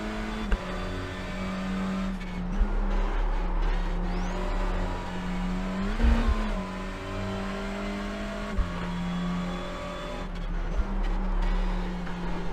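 Race car engine in a racing video game at Lime Rock, a steady loud drone that holds under continuous revving with slight pitch swells and brief spikes, no talk.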